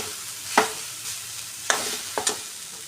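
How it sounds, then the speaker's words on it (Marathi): Grated coconut is sautéed in a pan, with soft background frying and a few sharp scrapes of a spatula stirring it, spaced irregularly and heard close up without talk. "नारळ परतून घ्यायचा आहे"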